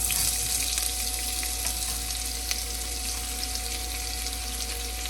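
Chopped onions hit hot mustard oil already seasoned with cumin, frying for eggplant bharta with a steady, dense sizzle that holds evenly throughout, close and continuous with no voices.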